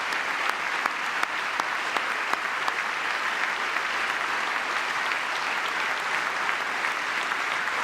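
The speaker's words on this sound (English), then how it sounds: "Give it applause." Steady crowd applause during a presidential address to Congress, dense and sustained with a few sharper individual claps standing out.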